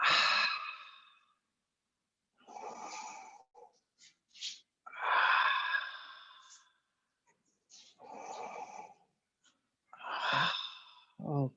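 A slow, audible exhale during a guided mindfulness breathing exercise, heard as a few soft, separated breaths with quiet pauses between them, close and gentle.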